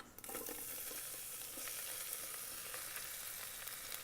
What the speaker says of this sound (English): While sauteing onion